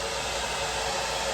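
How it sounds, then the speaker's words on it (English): A Babyliss Pro hair dryer on the hot setting blowing steadily at close range, a constant loud whooshing hiss with no pauses. "My hair dryer is a Babyliss Pro. I actually bought it through my hairdresser, and I run it on hot."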